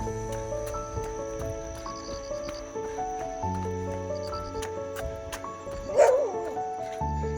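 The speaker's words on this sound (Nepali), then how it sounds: "यहाँ कुकुरहरू रहेछ गेटमा" Several dogs at a gate on a morning run route give yips, barks and whimpers amid a busy tonal background, with one louder burst near the end and no speech.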